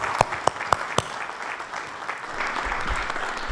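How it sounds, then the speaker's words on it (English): Symposium audience applauds panelists at a geospatial technology conference, a few sharp claps at the start, then steady moderate clapping from a mid-sized room that carries through the short stretch. "Once more, a round of applause for these panelists."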